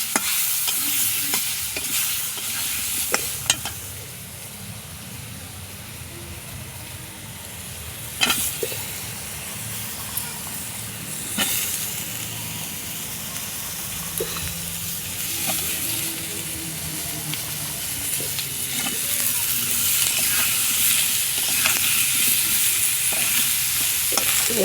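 Vegetables with turmeric frying in a pan while being stirred, a continuous close sizzle broken by repeated scraping and clacking strokes of the spoon, with no talking.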